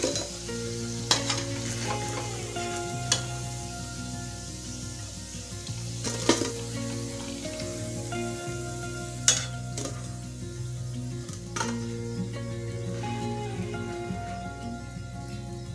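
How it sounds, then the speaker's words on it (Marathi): Red-chilli sabudana vadas deep-fry in hot oil, a soft, continuous bubbling sizzle over a low steady hum, broken by a few sharp clinks and taps from the ladle. "अशाच प्रकारे आपण उरलेले देखील वडे तळून घेणार आहोत।"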